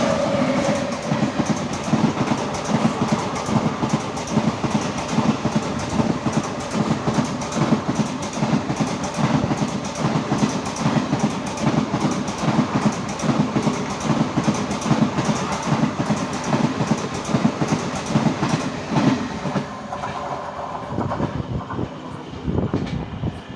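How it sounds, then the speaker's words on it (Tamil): A train rumbles past on the opposite track with steady clickety-clack, loud and close for about twenty seconds before fading, heard from aboard the Tambaram–Ernakulam special fare express on the Tenkasi route. "அப்போ இங்கேருந்து இந்த ஒரு ட்ரெயின் கிராஸ் ஆக போகுது"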